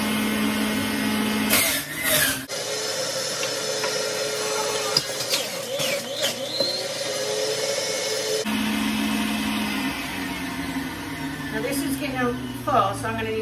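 Electric juicer grinding cabbage, apples and celery, a whirring motor whine broken by bursts of crunching as produce is pushed in, with a short pause in the middle and a person talking throughout.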